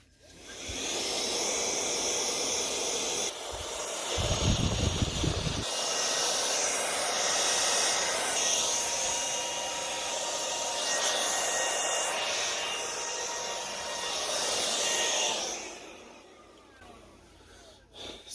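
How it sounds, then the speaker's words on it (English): A vacuum cleaner runs as it cleans a Silver-Reed Electric 8700 typewriter. It gives a steady, loud airy roar that shifts in tone as the nozzle moves, with a deeper muffled stretch partway through, then winds down near the end. "Let me give it a little vacuum here"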